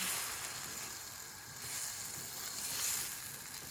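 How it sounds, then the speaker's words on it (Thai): Shrimp sizzle as they are stir-fried in a pan, a steady hissing crackle that swells and fades slightly, close by and without voices. "มาผัดกุ้งเยอะมากเลยผัดกุ้งเยอะๆก่อน"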